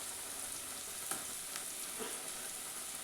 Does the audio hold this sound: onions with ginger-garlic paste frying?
yes